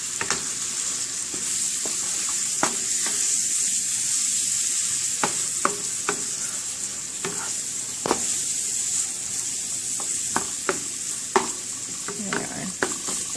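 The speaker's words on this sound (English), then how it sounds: "I'm going to start to flip the beef over." Ground beef frying in a pan, a steady sizzle broken by scraping and clicking as a utensil flips and breaks up the meat, close and loud with no talking.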